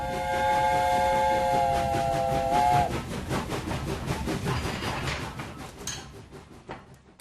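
A steam locomotive whistle sounds a long, loud sustained note from an old coal railway line, then cuts off, leaving rumbling train and rail noise that fades out.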